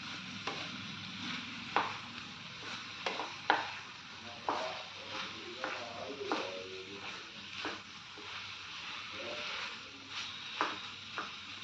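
Cauliflower florets frying in a non-stick pan, giving a steady sizzle with repeated stirring and scraping clicks throughout, close and moderately loud, with no talking.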